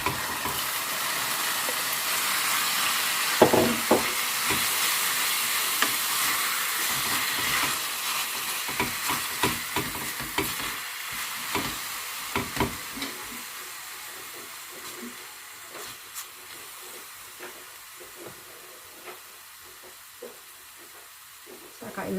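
Marinated pork for Ilocano igado sizzles and hisses steadily in a pan, close by, with scraping stir strokes and clinks throughout and the frying hiss easing off over time.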